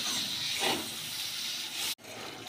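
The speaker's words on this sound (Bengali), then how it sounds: "জলটাকে দিয়ে মশলাটাকে ভালো করে কষিয়ে নেব" Spice paste with chilli powder and a splash of water for an egg omelette curry sizzles in a pan as a steady hiss, broken by a brief gap near the end.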